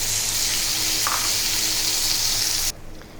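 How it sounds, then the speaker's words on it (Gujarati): Spinach puree hits golden-brown potato pieces frying in oil in a pan, making a loud, steady sizzle that cuts off abruptly near the end. "હવે આપણા બટેટાના પીસ ગોલ્ડન બ્રાઉન થઈ ગયા છે, તેમાં આપણે પાલકની પ્યુરી નાખીશું."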